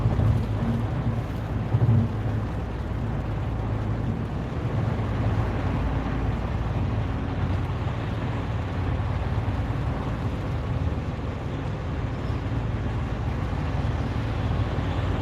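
Steady interior road noise from a moving car, a continuous low rumble and broadband hiss with no distinct events, fairly loud and unchanging, no speech.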